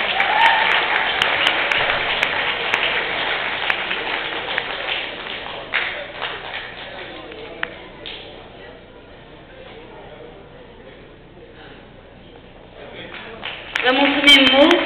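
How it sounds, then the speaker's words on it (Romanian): Loud applause for Călușari folk dancers from Filipeni, Leova, fills the hall for several seconds, then thins to scattered clapping and crowd murmur before another burst swells at the end. "Merită aplauze!"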